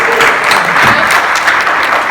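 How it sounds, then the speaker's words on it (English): Loud, close crowd applause for Crystal at a Texas Democratic Party event, a thick continuous wash of clapping with no pauses. "Let's give Crystal a big round of applause."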